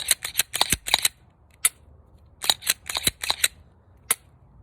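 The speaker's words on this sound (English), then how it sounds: "Take it back. Make sure it catches. Hear that click. Rack it a few times." A Glock 19 pistol slide racked back and forth several times, crisp metallic clacks in quick clusters with short pauses between, close and clear.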